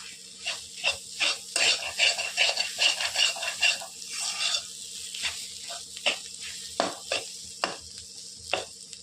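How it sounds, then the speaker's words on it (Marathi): Fenugreek leaves cooked with gram flour are stir-fried in a pan: a close, busy sizzle with quick rhythmic scraping strokes, denser at first, then sparser, spaced stirs. "पाच मिनटं झाले त्यातले पाच ना परत एकदा असं परतून घ्यायचं आहे याला"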